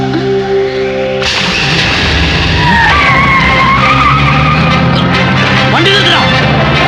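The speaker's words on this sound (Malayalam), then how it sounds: "നീ വേഗം വണ്ടി വിട്." A car speeds off with tires skidding and squealing, loud and close, the screech sweeping up over a roaring engine after a sudden onset, with voices briefly heard at the start.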